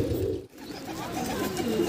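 A pigeon in a loft giving low, soft cooing calls, close by and fairly quiet, under background room noise with a brief dropout midway.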